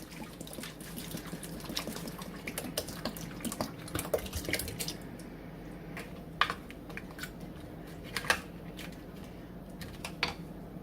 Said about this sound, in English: you're just going to pour all of this in there.